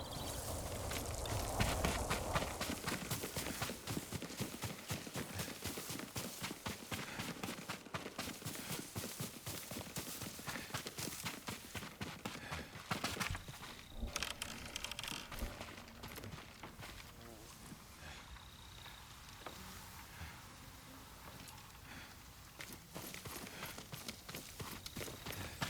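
Steady clip-clop of horse hooves walking at an even pace in the video game Ghost of Tsushima, with voices talking over them and a busy backdrop of other sounds.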